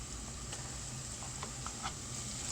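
Garlic paste frying with softened onions in a pan for a red lentil curry gives a steady, soft sizzle that runs evenly throughout, with faint stirring scrapes on top.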